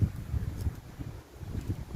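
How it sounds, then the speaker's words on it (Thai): Strong wind blowing through a sugarcane field during a rainstorm, heard as a continuous low rumbling buffet against the microphone with gusty swells and no voices. "ลมก็แรง"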